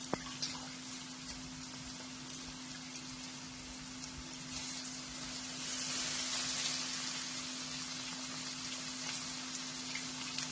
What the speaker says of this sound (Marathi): आता गॅस मोठा करायचा आणि त्याच्यामध्ये जो आपण बटाटा किसून ठेवलेला आहे ना असतो पूर्ण पाणी चांगलं पिळून घालायचं त्याच्यामध्ये